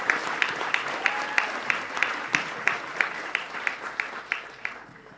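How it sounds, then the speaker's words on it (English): Audience applause following a spoken word performance at a peace conference opening ceremony, a steady wash of clapping with sharp individual claps standing out, fading toward the end. "I think that deserves another round of applause,"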